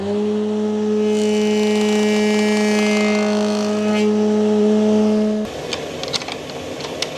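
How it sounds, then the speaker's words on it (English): A woodworking machine cutting timber into cornice moulding hums with a steady, loud motor tone for several seconds, then shifts into a rougher, broadband cutting roar as the wood is pushed through by hand. "So push a bit through by hand, check how it's machining"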